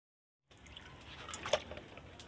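Veal is washed in water, with soft splashes and trickling drips rising after a moment of silence, faint and close with a small splash near the middle.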